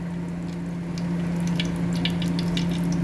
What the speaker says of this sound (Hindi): सरसों का तेल डाल रही हूँ।